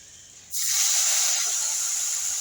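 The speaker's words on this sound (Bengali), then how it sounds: "বাদ বাকি মাছগুলো এইভাবে ভেজে নেব।" Fish frying in hot oil, likely amudi fish: a loud, steady hiss and sizzle bursts in suddenly and holds close by, with no talk.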